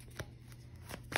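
Tarot cards are shuffled and pulled from a deck, with soft papery riffles and a brief flutter of cards at the end, close and quiet.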